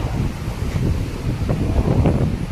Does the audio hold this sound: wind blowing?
yes